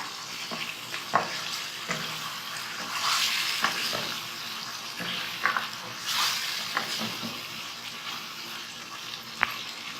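Chicken curry with masala fries and sizzles in a pan, a continuous hiss broken by repeated scrape-and-stir strokes of a spoon, close and alone.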